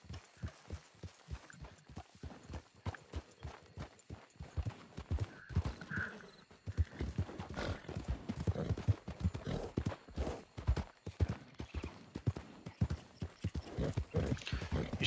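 Horse hooves clip-clop in a steady rhythmic gait in Red Dead Redemption 2, the animal being a racehorse, loud and close throughout with a brief neigh-like sound midway.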